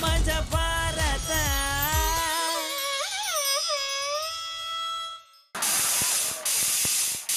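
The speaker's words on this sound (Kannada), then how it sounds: "ಏನೇ ಅದು ಅಡ್ಗೆ ಮನೆ ಸೌಂಡು? 10 ಕುಕ್ಕರ್ ಅನ್ನಕ್ಕೆ ಇಟ್ಟಿದ್ದೀನ್ರಿ." Ten pressure cookers on the stove cooking rice in a home kitchen: a shrill, wavering whistle with rising and sliding pitch, then a loud, sustained steam hiss bursting out near the end, close and prominent with no talk.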